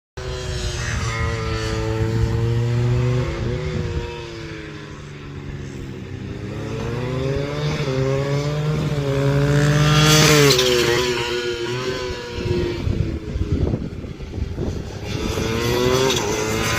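A turbocharged Yamaha FZR125 motorcycle engine on a dyno, revving steadily with rising and falling pitch over sustained loud running, boost peaking around 12 psi.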